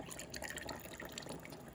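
A flour and water slurry is poured into a pot roast in a Dutch oven, making a soft, continuous liquid trickle and splash close by. It is quiet, with no talk over it.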